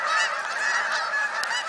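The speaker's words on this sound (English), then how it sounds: "That's a small goose." A goose honks in a continuous, close, nasal run of calls during a goose hunt on the St. Lawrence, with no talk over it.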